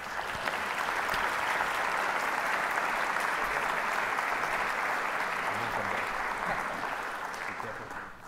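Sustained audience applause fills the room for a lecture welcome, a dense steady clapping that holds throughout and fades slightly at the end, with no speech over it.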